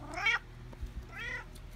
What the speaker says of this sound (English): my cat is going crazy again